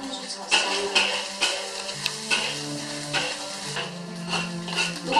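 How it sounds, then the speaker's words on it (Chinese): Minced pork and chopped garlic stir-fry in oil in a wok for an eggplant dish, a constant close sizzle broken by repeated scraping strokes of a spatula in an uneven rhythm. "往锅里面倒一点油，然后把这个切好的肉末放进去炒一下"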